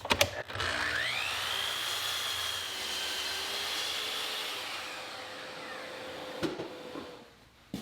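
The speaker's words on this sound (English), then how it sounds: "I'll make the cut on all 4 legs." A power saw cuts through a wooden table leg held against a stop block, a sustained loud whirring cut lasting several seconds with a rising whine, spinning down at the end with a few knocks.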